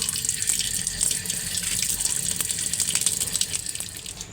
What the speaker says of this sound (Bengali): চলো ভালো করে ধুয়ে নিই